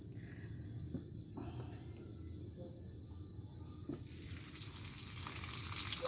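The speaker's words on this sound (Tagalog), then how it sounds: "So ngayon, ito ang lutuin natin, ang bulad." Bulad, dried fish, frying in oil with a steady close sizzle and crackle, growing louder and brighter toward the end, with a faint hum and occasional clicks underneath.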